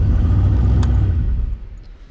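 The Plan B drag car's engine is fired up with a loud, deep rumbling roar close by that holds steady, then drops off and fades after about a second and a half.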